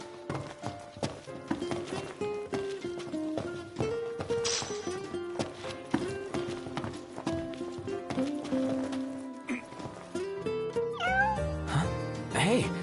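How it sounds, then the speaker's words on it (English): A cat meows in the video game Final Fantasy XV, its short rising cries coming near the end over continuous in-game music. "Hey, you're the cat we saw in Galden."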